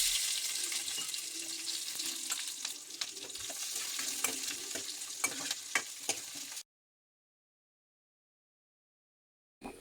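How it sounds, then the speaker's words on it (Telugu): Onions sizzle and crackle in hot oil with mustard seeds in a pan, a steady bright frying hiss with occasional sharp pops and stirring clinks, then cutting to silence after about six and a half seconds. "తర్వాత కొన్ని ఉల్లిపాయలు బాండిల్లో వేసి బాగా వేగించాను."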